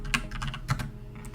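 Computer keyboard keys are pressed in a quick, uneven series of close clicks and taps, with no voices over them.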